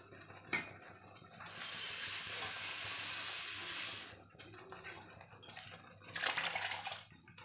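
Water is poured into a pot of cooking lentils for a greens and lentil dish, a soft hissing stream that runs for a few seconds, pauses, then splashes again briefly.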